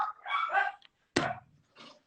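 A few dogs bark nearby in short, loud bursts: an excited run of yips and barks, a sharp single bark, then a fainter bark after a brief pause.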